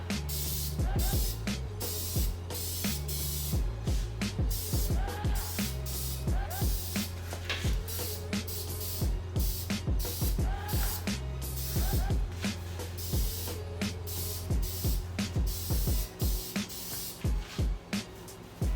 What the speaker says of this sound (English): it's pretty normal, like a regular spray paint